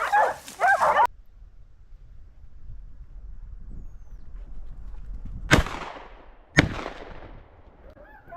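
Hunting dogs on a wild boar hunt give a burst of yelping barks at the start, followed by quiet outdoor ambience and two sharp, loud cracks like gunshots later on.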